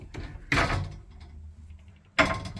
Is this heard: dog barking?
no